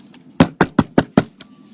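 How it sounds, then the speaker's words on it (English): Five firm knocks on a door in an even, quick rhythm, close and clear, with a fainter tap just before and after. "Now I go back and I knock again."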